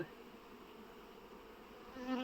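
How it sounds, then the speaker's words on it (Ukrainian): Honey bees pour out of a hive being combined after a puff of smoke, a steady, dense buzzing swarm close by, slightly louder toward the end. "там трохи бджоли лишилося, я просто зараз лише даю димку, вони вилітають"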